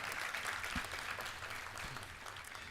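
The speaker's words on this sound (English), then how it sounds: "Can I get another round of applause for them?" Audience at a Caribbean Maritime University industry conference applauding, a fairly quiet, even spread of clapping from a room heard at a distance, without talk over it.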